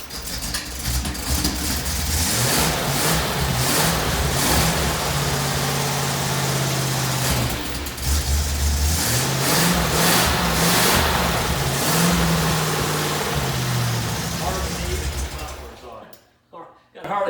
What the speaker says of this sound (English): So Darryl, let's see if this thing runs.